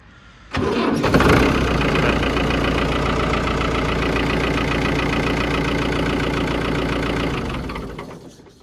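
A Massey Ferguson tractor diesel engine cranks and catches, then runs at a steady, loud, close idle with a rhythmic knocking chug for several seconds before fading as it is switched off.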